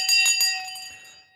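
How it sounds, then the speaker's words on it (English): A bell marking the stock market close rings with a few quick bright strikes, then a sustained metallic tone that slowly fades. "The bell's just gone."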